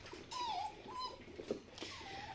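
Puppies whimpering with several thin, high, wavering whines spread across a couple of seconds, close by, with no talking.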